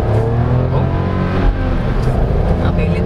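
A 2023 Suzuki S-Presso with an AGS automated manual gearbox accelerating at half throttle through a gear change, its small engine droning steadily from inside the cabin with a brief surge midway, beneath someone talking.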